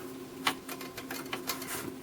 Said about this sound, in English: I was in a hurry typing